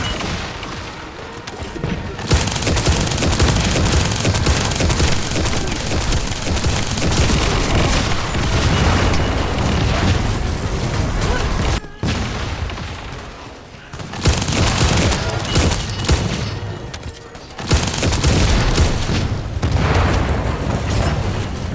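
Loud explosions and rapid gunfire bring down a Vulgus aircraft over an operation zone in The First Descendant, a dense roar of blasts and volleys that runs nearly continuously, with short drops in level between bursts.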